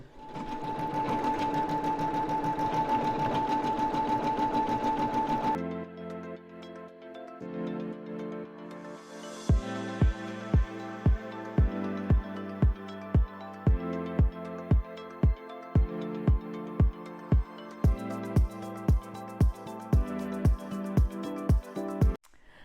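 A Brother Skitch embroidery machine stitches over a fabric label, starting with a steady motor whir, then pausing, then switching to a rapid run of loud, evenly spaced needle thumps, close and alone.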